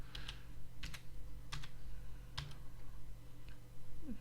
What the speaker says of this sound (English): I'll just type that in now